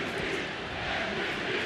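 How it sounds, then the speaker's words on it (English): A packed ballpark crowd at an Orioles–Yankees baseball game chants MVP for Aaron Judge out in right field, a dense, far-off roar of massed voices that stays steady and fairly faint throughout. "Crowd just showering with love as chanting MVP out in right field"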